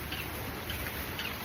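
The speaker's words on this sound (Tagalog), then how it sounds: "Umuulan nga na eh." Steady outdoor rainfall with a soft continuous patter of drops on surfaces, fairly faint and even throughout, with no voices.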